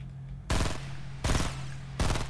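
Three heavy shotgun blasts ring out in Fortnite Battle Royale, evenly spaced, loud and close, each with a short tail, over a steady background hum.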